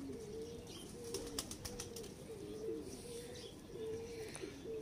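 A pigeon coos in low, repeated throaty phrases, close by, with a few brief higher clicks and rustles in the background.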